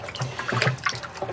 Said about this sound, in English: I'm grabbing a stick, and just kind of stirring it up.